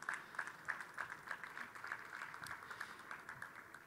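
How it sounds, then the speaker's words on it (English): Audience applause at a SXSW conference session, a moderate scattering of claps with uneven rhythm, fairly distant and somewhat thin, continuing steadily with no voices on top. "he deserves a round of applause"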